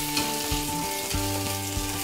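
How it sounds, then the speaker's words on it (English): Steady sizzling and crackling of pork sausages frying in oil, with a continuous hiss and occasional louder pops. "I'd put just a bit of oil in to help them sizzle away"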